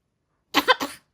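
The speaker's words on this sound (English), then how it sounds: "but you're coughing, aren't you?" A person gives a short burst of fake coughing, two or three quick close-up coughs in under half a second.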